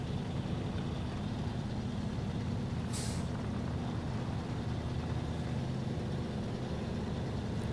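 Engine of a truck in SnowRunner labouring through mud, a steady low rumbling drone held throughout with one brief hissing burst partway in, close and constant with no talk.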